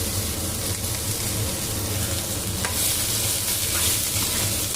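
Onions with tamarind and a little salt frying lightly in a pan make a dense, steady sizzle close up, with faint stirring scrapes running through it.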